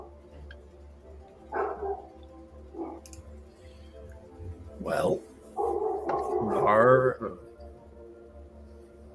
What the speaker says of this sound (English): that's some loud dogs